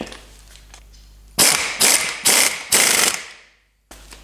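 An impact wrench hammers down the old pinion flange nut on an FJ45 Land Cruiser differential in four loud, rattling bursts of about half a second each, with short pauses between them, then silence.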